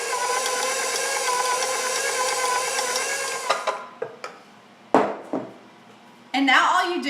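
Oatmeal raisin cookie dough with a double portion of raisins is mixed, first as a steady, loud motorized whir, then as a few scattered clunks and knocks before a brief rattling swirl at the end.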